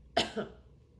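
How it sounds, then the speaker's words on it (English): A single short cough, close and sharp, followed by a softer second burst, then quiet. "with that little cough there"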